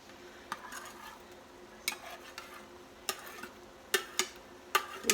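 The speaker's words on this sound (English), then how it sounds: "I'm going to just kind of stir this a little and talk a little, and hopefully it will get soft, the onion translucent and soft" Chopped onion being stirred in a frying pan, with a soft sizzle under intermittent scraping clicks of a utensil against the pan, several sharp strokes spaced a second or so apart.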